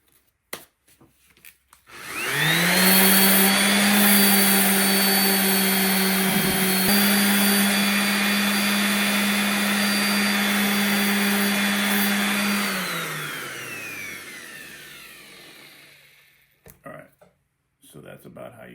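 A power sander fitted with a sandpaper disc spins up and grinds steadily against a hog splitter for about ten seconds with a loud, constant whine, then winds down to a stop and is followed by quiet handling noises.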